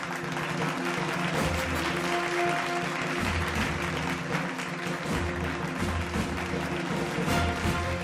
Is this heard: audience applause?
yes